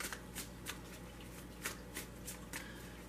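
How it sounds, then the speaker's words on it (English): Tarot cards riffled and bridged in quick bursts, several crisp ruffles repeating at a steady pace, close and clear over a quiet background hum. "I have pre-shuffled these three times with the bridge."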